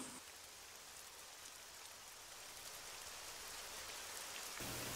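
Steady rain falls and patters on surfaces outdoors, a constant dense hiss lasting throughout with no talk over it.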